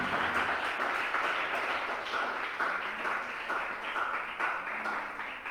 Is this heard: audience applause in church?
yes